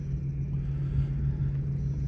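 A 2025 Kenworth W900L truck rumbling steadily at a truck show parade, a deep, even low engine drone held close and continuous with no voices.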